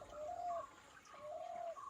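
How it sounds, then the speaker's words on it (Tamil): Repeated cooing calls of pigeons or doves in a natural forest setting, two drawn-out call phrases with short pauses between them, moderately close against a quiet background. "சுற்றிலும் பறவைகளின் ஒலி இருக்கு."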